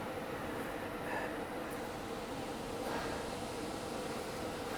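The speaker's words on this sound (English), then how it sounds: "The blower is working." An air conditioner blower runs indoors as a steady, even broadband whoosh of moving air, constant in level for the whole stretch with no speech over it.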